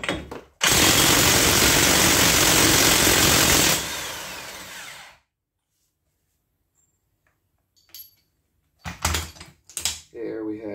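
An impact wrench with a 32 mm socket hammers at the axle nut of an S550 Mustang, giving a loud, close burst of rapid rattling lasting a few seconds. Silence follows, then short clanks and handling noises.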